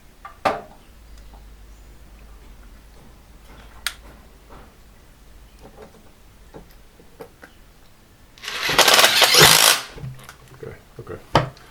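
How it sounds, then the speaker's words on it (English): A power driver sinks screws into a privacy screen fence panel: a loud, sustained whirring burst of about a second and a half near the end, after scattered light ticks and taps of handling. "hopefully I can use my free hand to drive in the screws"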